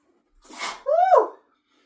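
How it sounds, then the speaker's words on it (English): A single close, loud human sneeze: a breathy intake followed by a sharp voiced burst, then silence. "Hold on. I feel a sneeze coming."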